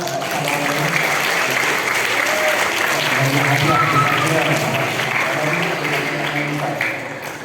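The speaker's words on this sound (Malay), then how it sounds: "Bagi tepukan." An audience at a Nuzul Al-Quran celebration claps in a long, steady round, many hands blending into a continuous patter with voices talking underneath, tapering slightly at the end.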